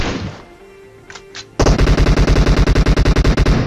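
Rapid automatic gunfire rips through a PUBG Mobile match, a loud, close burst of evenly spaced shots following a brief quieter lead-in with faint noises.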